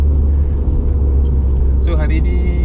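A 1990s Mitsubishi Lancer Evolution III CE9A heard from inside the cabin, its engine a steady heavy low rumble filling the car, with a brief higher mechanical whine near the end.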